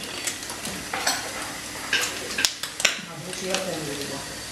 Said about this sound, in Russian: Лисички жарит.